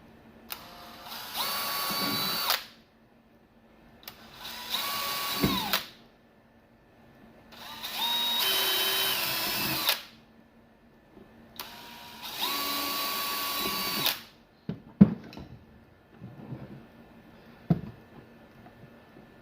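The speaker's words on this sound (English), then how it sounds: "I got to drill a few holes" A power drill bores screw holes while a DIY portable power box is being assembled, running in four separate whirring bursts of about two seconds each with quiet pauses between them, followed by a few clicks and handling noises.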